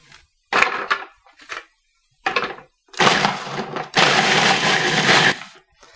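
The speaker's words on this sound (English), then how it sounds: "put 40 Oreos, or just under one package, in the food processor, chop them up" A food processor chops about forty Oreo cookies in short bursts: several brief loud grinding pulses, then longer runs of rattling whir with silent gaps between.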